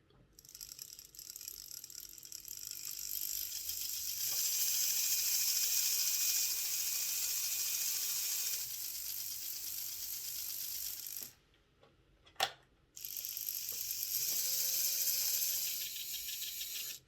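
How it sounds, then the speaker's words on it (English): Gear on a new spindle turning inside a Hornby R066 Duchess of Sutherland model locomotive, a quiet steady mechanical whir and rattle running in long stretches, broken once by a short gap and a single sharp click. "This is the gear with the new spindle here."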